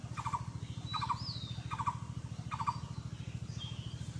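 Short, rapid bird calls sound about every second, with a few higher whistled notes between them, over a steady low rumble.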